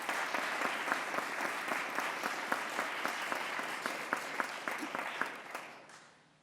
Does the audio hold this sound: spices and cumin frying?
no